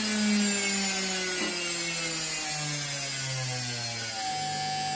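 Washing machine motor spinning at maximum speed on a speed controller bench setup, giving a steady whine with tones gliding slowly downward, close and fairly quiet, no talk.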